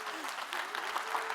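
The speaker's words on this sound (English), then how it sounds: "Give them a big round of applause, guys." An audience at a yoga session claps for the people demonstrating, a brief stretch of steady applause with voices faintly audible beneath.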